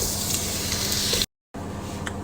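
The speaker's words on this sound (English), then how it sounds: "Once that's started sizzling nicely," Cumin sizzles in hot oil at the start of a beef karahi, giving a steady close hiss and crackle that cuts out briefly to silence before resuming.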